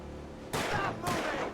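Two sharp, loud gunshots ring out in Alan Wake Remastered, spaced about half a second apart, each with a brief echoing tail.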